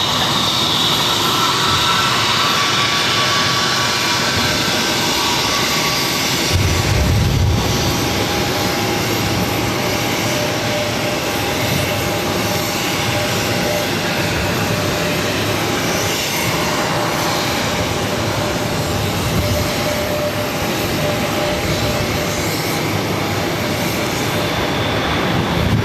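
Delta Airlines jet engines roar steadily at Boston Logan airport, a loud continuous turbine drone with a brief low rumble surge near the middle, no voices.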